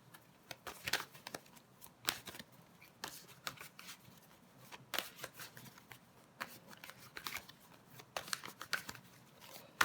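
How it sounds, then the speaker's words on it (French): Tarot cards are shuffled and laid out in a quiet room, giving soft papery flicks and riffles in irregular clusters. The sound stays faint and close, with no talk. "Je vais recouvrir les cartes."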